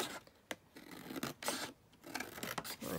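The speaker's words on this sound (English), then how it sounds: "So again, let's just cut that down" Scissors cutting green paper for a Victorian junk journal, a few quiet, close snips and slicing strokes spaced irregularly, with faint rustling of the sheet between cuts.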